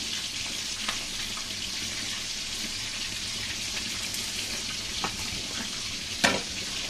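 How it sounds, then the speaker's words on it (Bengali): Chicken frying in a pan with chili powder, meat masala and salt for a traditional Chattogram dish gives a steady hiss of sizzling oil, with a few sharper pops near the end and no talking. "আমার মুরগিটা কিন্তু কতদিকে ভাজা চলতেছে, আওয়াজ শুনে হয়তো বুঝতে পারতেছেন"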